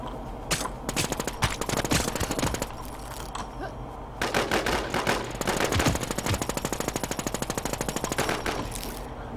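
Gunfire in the online survival shooter Infestation: Survivor Stories: loud, rapid automatic bursts in long strings separated by short pauses, close and sharp, with no talking over it.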